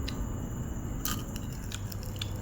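Crunchy fried salted fish is bitten and chewed close to the microphone, with a few sharp crisp cracks over a faint steady background hiss.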